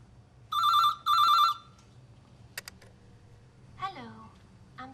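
A telephone rings twice in a quick double burst of bright electronic trills, then falls quiet over a low room hum before faint brief sounds follow.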